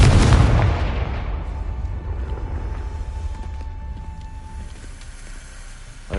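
Confringo blasting spell explosion in the Hogwarts Legacy video game: one loud, booming blast right at the start, its rumble slowly fading into a long decaying roar with a faint lingering tone, no voices.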